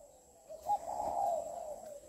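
A three-month-old caged dove gives a soft, low cooing call, rising into one sustained warbling coo after a brief lead-in, close and fairly quiet with no one talking.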